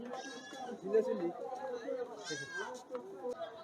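Goats at a busy livestock market, bleating several times in quick, wavering calls, with crowd noise and voices in the background.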